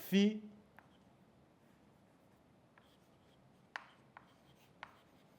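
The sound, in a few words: writing on a board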